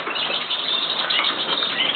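Canary or goldfinch fluttering and chirping inside a cage, a busy close stretch of wingbeats and high twittering that runs steadily throughout.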